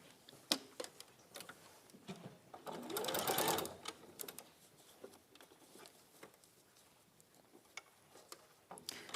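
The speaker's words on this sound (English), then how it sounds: "I'm going to sew that row again" Sewing machine stitching a row of fabric, a fast close chatter of needle strokes rising into a brief loud run, surrounded by light ticks and handling clicks.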